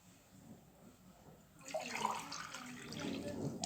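Water is poured for chicken couscous in a steady, close splashing stream that starts partway through and follows a quiet stretch of soft background noise.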